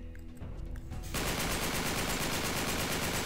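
Rapid automatic gunfire erupts in the Uncharted 3: Drake's Deception video game, a dense, loud, continuous burst of shots following a few scattered quieter pops.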